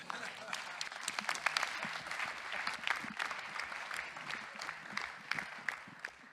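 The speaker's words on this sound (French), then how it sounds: "Je vous demande d'applaudir Samuel 7." A convention audience applauds a speaker, dense continuous clapping with sharp individual claps standing out, moderately distant and even throughout.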